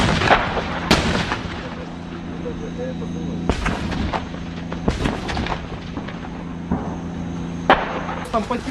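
Several loud, sharp booms of grenade launcher and heavy artillery fire ring out at irregular intervals, echoing over a constant low rumble, near Sloviansk, Ukraine.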